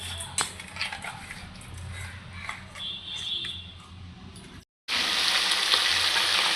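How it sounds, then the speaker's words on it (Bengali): Oil sizzles and crackles steadily in a pan frying turmeric-and-salt-coated hilsa fish, with a brief cut and then louder, brighter sizzling at close range. "আমি মাছ ভাজা বসিয়ে দিয়েছি"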